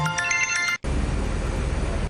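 A mobile phone ringtone plays a brief run of bright, repeating electronic tones for under a second, then cuts off abruptly into a steady broadband noise.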